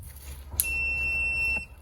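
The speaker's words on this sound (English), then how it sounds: "When it's on, you'll hear it beep." A short click as a STACYC 16eDrive electric balance bike is switched on, followed by a steady, high-pitched electronic beep lasting about a second, close and clear over a faint low background hum.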